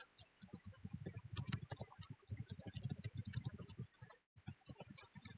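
Rapid, uneven key taps while code is typed on a computer keyboard, close and clear, with a brief pause near the end before the clicking resumes.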